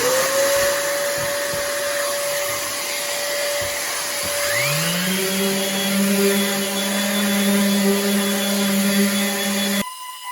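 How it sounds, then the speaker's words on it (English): An orbital sander hooked to a vacuum runs steadily while sanding with 120-grit paper on a work job, a loud continuous whine with a second motor spinning up partway through, cutting off just before the end. "I like to use my orbital sander hooked to the vacuum."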